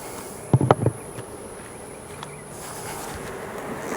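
Honey bees buzz steadily at an opened backyard hive during an inspection. The hum is continuous and fairly near, with a few knocks and thumps from hive handling at the start.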